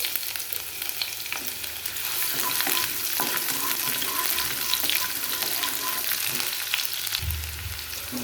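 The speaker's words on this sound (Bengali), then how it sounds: "তেলটা গরম হয়ে গেছে এবার তেলের মধ্যে আমি প্রথমে দিয়ে নেবো এই কালো জিরে ফোড়ন এরপর আমি দিয়ে দেবো পেঁয়াজ ফোড়ন" Nigella seeds and onion tempering in hot oil give a steady, loud sizzle throughout, with a few clinks of stirring and no talking.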